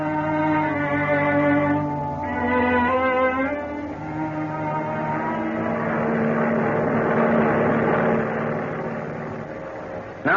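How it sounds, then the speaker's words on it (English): A transport airplane flying at high speed, a steady droning engine roar with strong tonal hum that holds level for about ten seconds, loud and continuous without voices. "A transport airplane moving through the sky at high speed."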